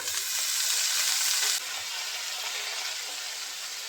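Red amaranth leaves hitting onions browned in oil, a loud hissing sizzle that drops sharply in level partway through, then continues softer and steady, close up with no talk.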